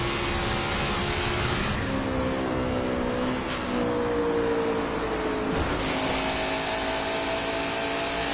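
A NASCAR Cup race car roars around the track at Darlington, a loud sustained engine note rising and falling as it passes, with continuous background noise and no talk.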